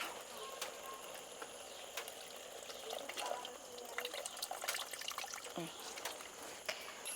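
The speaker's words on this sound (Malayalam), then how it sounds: "നമുക്ക് പുളി ഒന്ന് നന്നായിട്ട് പിഴിഞ്ഞെടുക്കാം വേണ്ടില്ലേ ഇനി ഇതിലേക്ക് ഒഴിച്ചു കൊടുക്കാം" Squeezed tamarind water poured into a pan of sardine curry, a soft trickling and splashing of liquid over several seconds with faint clinks, close by.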